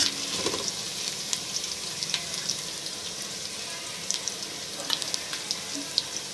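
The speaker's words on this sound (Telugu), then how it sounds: "ఉల్లిపాయలు అయితే ఏగిపోయినాయండి" Onions fry in oil in a pan for country chicken biryani, a continuous dense sizzle with occasional scraping stirs and small clicks of a utensil, close and steady throughout.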